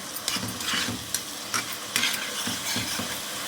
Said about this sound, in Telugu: ఇవి బాగా ఆయిల్లో వేగాలండి పచ్చివాసన పోయేంత వరకు